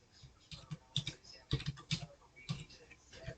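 Fingers typing a word on a computer keyboard, a quick uneven series of close, soft key clicks in small bursts. No talk is heard.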